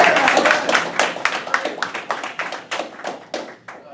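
Audience at a political event for a US Senate candidate in Arkansas applauding, clapping that starts dense and thins into fewer, distinct claps as it fades out.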